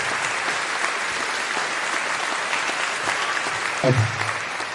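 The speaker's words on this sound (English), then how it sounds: "would you please, a round of applause for the Cochrane Search and Rescue" An audience at a Cochrane, Alberta safari club fundraising dinner applauds search and rescue volunteers, with continuous, full-room clapping that stays even throughout before a brief low thump near the end.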